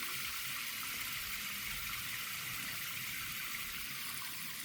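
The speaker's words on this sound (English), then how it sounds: "I'm just going to add some water to the wildlife pond just to top it up slightly" Water is poured into a garden wildlife pond to top it up, giving a steady, continuous rushing and splashing that runs unbroken and fairly close, with no voices.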